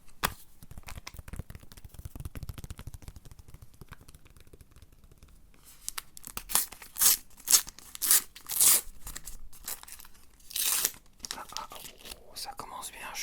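Panini World Cup 2026 sticker packets are torn open and crinkled close up, with several sharp foil rips and rustles following soft whispered speech.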